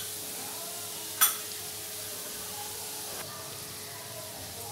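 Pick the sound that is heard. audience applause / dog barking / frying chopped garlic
frying chopped garlic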